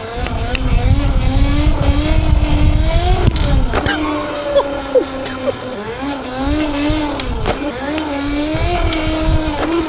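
An ETM Revolver Alpha RC car with upgraded motors races and pulls wheelies, its electric motor whining loudly in rising and falling pitch sweeps, close by and nearly continuous, with brief tire scuffs between bursts.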